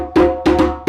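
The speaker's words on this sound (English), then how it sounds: "The break for cuckoo sounds like this." Drummers sound the break signal for the Guinean kuku rhythm, three sharp, loud hand-drum strikes with ringing tone spaced unevenly in under a second.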